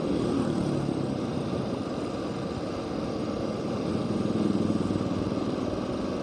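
Motorcycle engines drone continuously at a night-time gathering spot on Malioboro, Indonesia, where riders of bikes such as a CB and a Satria meet, a dense steady rumble with no pauses.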